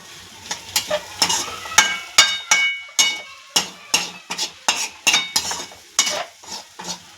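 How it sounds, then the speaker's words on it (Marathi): Grated sweet potato stirred with salt in a pan: a steady run of close, scraping spatula strokes about twice a second over a light sizzle. "आता पुन्हा एकदा आपल्याला हे सगळं एकजीव करून घ्यायचं आहे मिक्स करून घ्यायचं आहे"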